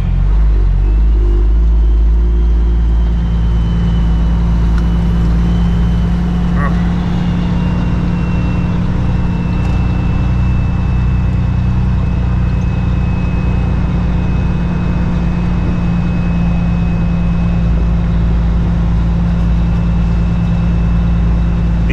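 A semi truck rolls slowly around the lot of a Flying J truck stop, its heavy diesel engine giving a steady, close, low rumble with a constant drone and no breaks.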